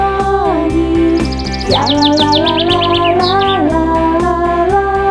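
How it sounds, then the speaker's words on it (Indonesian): Bright, rapid bird chirps and tweets come in repeated quick runs over loud, steady, tuneful music that keeps playing underneath the whole time. "Burung-burung pun bernyanyi"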